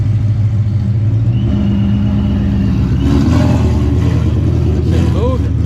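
A 900-horsepower Mustang with a 10-speed transmission accelerating, a loud, rough engine rumble that swells partway through, with a brief high whine near the end.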